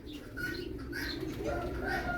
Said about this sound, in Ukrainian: Голуб і голубка.